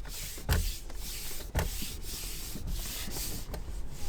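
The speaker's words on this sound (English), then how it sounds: "Maybe just sand a little bit right here." Sandpaper rubbing over a damaged leather steering wheel during a hole repair, a steady raspy scrape with a few sharper strokes, close up and with no talking.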